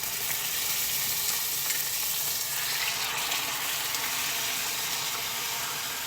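Steak sears in a generously oiled pan, giving a loud, steady broadband sizzle that holds constant throughout with no voices.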